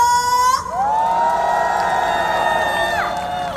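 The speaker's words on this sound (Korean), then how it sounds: "그렇다면 다 같이 함성과 박수!" A festival crowd at an outdoor evening concert cheers and shouts together, a loud sustained roar of many voices with bright whoops rising over it, and a faint tonal sweep carries through.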